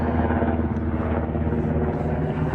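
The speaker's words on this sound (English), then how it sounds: "Yeah, that's a rescue chopper." A rescue helicopter carrying baskets underneath flies over a hiking trail, a continuous low rumbling drone that holds steady and loud throughout.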